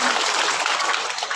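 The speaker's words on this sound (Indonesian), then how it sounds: "Tepuk tangan dulu dong." Applause breaks out from the audience at a large Islamic religious gathering honouring a revered elder, a dense, steady wash of clapping that stays loud and even throughout the short burst, with no talk over it.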